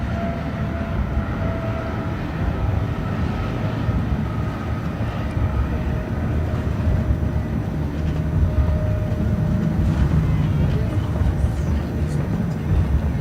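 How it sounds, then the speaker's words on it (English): Military escort helicopters flying around overhead at a state burial service, a steady broad rotor and engine drone filling the whole stretch, with faint crowd murmur beneath. "the noise we hear overhead is the helicopter escorts flying around"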